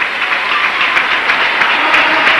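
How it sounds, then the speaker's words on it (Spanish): An arena crowd at a Spanish basketball game, Ciudad de Huelva's home fans, applauds in a loud, sustained dense wash of clapping with no break. "Aplaude el público de Ciudad de Huelva"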